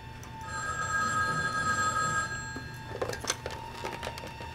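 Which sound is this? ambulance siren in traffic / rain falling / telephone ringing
telephone ringing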